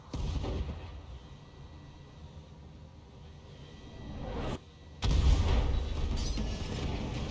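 Thumper Cannon artillery firing in the BattleTech game, a dense rolling rumble that fades, then a sudden loud boom near the five-second mark with heavy low-end thunder sustained afterward.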